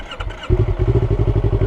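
A motorcycle engine cranks briefly, then fires up and settles into a loud, close, rapidly pulsing idle.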